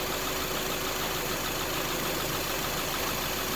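A Subaru car engine idles with a low, even hum that runs steady and unbroken the whole time during an air conditioning recharge, heard faintly and without anyone talking.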